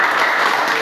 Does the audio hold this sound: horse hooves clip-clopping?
no